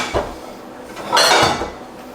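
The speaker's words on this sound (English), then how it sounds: "Let's grab a couple plates." Plates are taken from a kitchen cupboard, a light clink followed by a longer scraping, ringing rattle of stacked dishes, close and clear with no talking.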